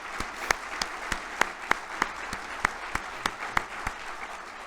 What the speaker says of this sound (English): I think they definitely deserve a round of applause there.